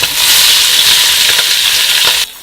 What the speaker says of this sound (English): you're just browning these off before you put them in the crock pot